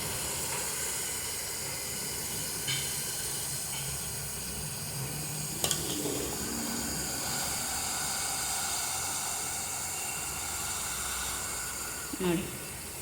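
Betel leaf dropped into homemade ghee heating in a pan gives a steady, even sizzle and hiss that runs the whole time, with a few faint clicks and pops scattered through it.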